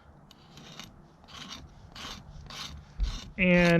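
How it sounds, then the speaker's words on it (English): The square spine of a knife scrapes down across wood to raise tinder shavings, making a series of rhythmic rasping strokes, close and distinct, ending in a brief louder tonal squeal; a single word is spoken. "I'm actually going to draw my edge or my square spine down across the wood like this."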